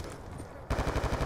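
Rapid gunfire erupts in the video game Black Ops 2, a quick string of loud close shots starting abruptly after a quieter background murmur.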